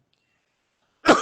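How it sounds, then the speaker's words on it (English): After near silence, a short, raspy throat sound bursts out close to the microphone, like a harsh breathy clear of the throat. "make a sound in the throat when you inhale"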